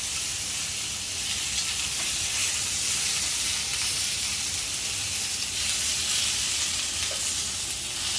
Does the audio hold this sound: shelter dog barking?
no